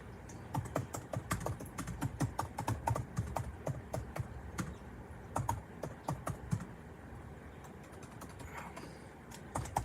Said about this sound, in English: The typing is bad today.